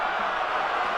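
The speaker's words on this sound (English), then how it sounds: "Fans are booing" A stadium crowd at a CFL football game between the Toronto Argonauts and Edmonton Eskimos roars and boos in a steady, loud wash of voices that fills the whole moment.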